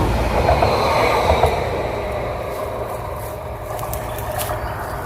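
A train rolls past loudly and close with a steady rumble and faint wheel squeal, continuous throughout with no talk, beside a vegetable garden.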